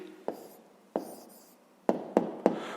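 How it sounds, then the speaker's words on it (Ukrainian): A pen writes an answer by hand on paper in a quiet room, making several short scratching strokes with a sharp tap at the start of each, the last three coming in quick succession. "Пишемо відповідь."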